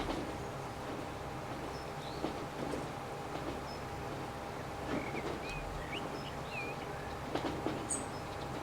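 A steady low rumble of a long train rolling along the track in the video game Transport Fever 2, with faint squeals and light bird chirps above it in the ambience.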